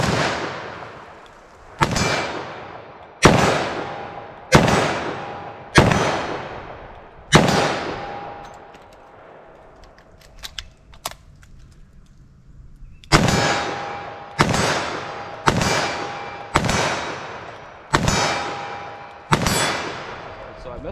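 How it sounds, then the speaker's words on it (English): Twelve sharp, loud .357 Magnum revolver shots: six evenly spaced blasts, then a pause of quiet reloading clicks, then six more at the same steady pace, each with a brief ringing decay and no talking. "So 357 Magnum."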